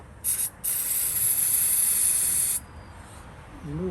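Starting fluid sprayed into a car engine with a fuel problem: a sharp hissing spray in a quick short burst, then one long continuous blast before stopping, followed by a faint voice.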